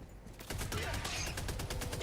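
Turret fire in a shooter game, a fast string of sharp shots that swells after a quieter start and rattles on steadily at moderate distance.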